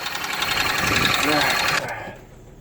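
An idling 2002 Chevy Malibu engine gives off a rapid mechanical knocking and clatter that runs loud and close, then cuts off abruptly and fades away.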